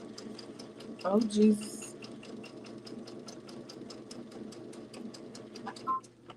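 A domestic sewing machine stitches steadily and then back stitches, its quick, even rhythm running throughout at close range, with a voice exclaiming briefly over it and a short click near the end.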